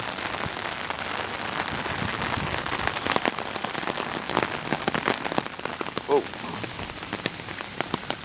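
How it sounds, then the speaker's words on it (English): Steady rain falls outdoors and patters densely on an umbrella overhead, with the sharp drop hits close to the microphone and continuous throughout, and a faint voice briefly heard. "I'm outside in the rain."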